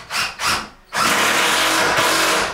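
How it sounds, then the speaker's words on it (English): A power drill fixing a worktop in a home under renovation, two short loud whirring bursts followed by one long sustained, close, high-pitched drilling run. "I'm just telling Omar, I'm looking forward to the time we don't have to listen to drilling all the time."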